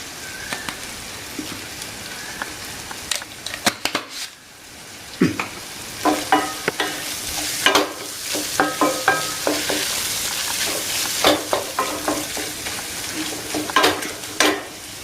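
Prawn pickle being stirred as it fries in a pan, with scraping strokes of the spoon against the metal over a steady close sizzle throughout, no talk.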